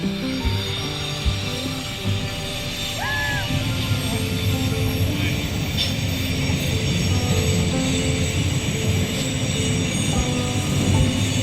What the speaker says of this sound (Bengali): ইন্টারলেকেনের ওপর দিয়ে যে ব্রিজটা রয়েছে তার উপর দিয়ে ট্রেনটা যাচ্ছে।